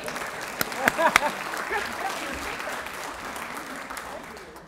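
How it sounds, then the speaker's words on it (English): Applause rises from the crowd at a school district retirement celebration, with a few sharp claps up front before it settles into a fainter, steady patter that fades away. "How about a round of applause for that?"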